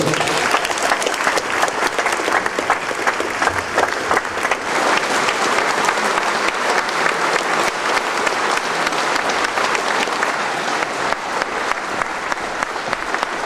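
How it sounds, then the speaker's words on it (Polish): A Law and Justice party rally crowd in Kielce breaks into loud, sustained applause, a thick continuous roar of clapping that lasts well over ten seconds without letting up. "Brawa są tak silne, że nawet ja nie potrafię przekrzyczeć."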